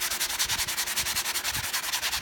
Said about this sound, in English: I'm just sanding that very edge, concentrating on just eliminating that shadow and that edge that you see